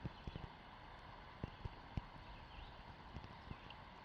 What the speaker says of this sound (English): Yeah, it's raining a little harder now.